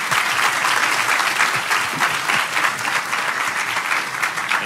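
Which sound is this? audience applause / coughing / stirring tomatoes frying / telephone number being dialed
audience applause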